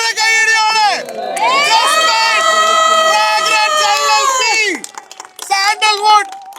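A crowd with many children cheers at the inauguration of a sandalwood farm, loud sustained shouts rising and holding for several seconds before breaking into scattered excited cries.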